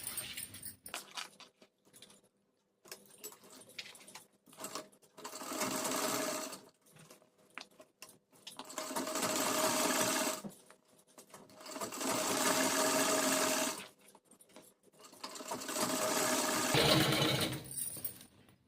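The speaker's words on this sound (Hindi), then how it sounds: "यहाँ से स्टार्ट करेंगे सिलाई इधर से, और यहाँ पर ऊपर की पूरे में सिलाई लगा देंगे" A sewing machine stitches lehenga fabric, whirring steadily in four long, loud close-up runs separated by short pauses with small handling clicks.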